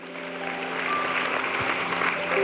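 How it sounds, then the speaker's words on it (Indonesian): A church congregation applauds during a Sunday worship service, clapping swelling gradually and holding steady, with sustained tones from instruments or a hall hum running beneath. "mari kita berikan tepuk tangan"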